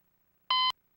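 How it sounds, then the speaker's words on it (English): A single short electronic beep from the Half-Life game, a clean steady tone lasting about a quarter second, alone in near silence. "that is the Half-Life sound effect because I needed a random beep"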